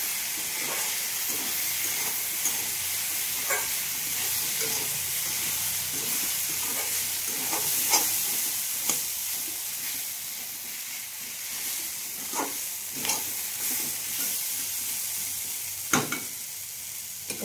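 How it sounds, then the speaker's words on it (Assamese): Paneer and mixed vegetables with Kashmiri chili powder, cumin, coriander and meat masala frying in a pan, a soft steady sizzle with hiss and scattered scraping stirs of a spatula, close and fairly quiet. "ভাজিখিনি অকণমান লৰাই দিছোঁ"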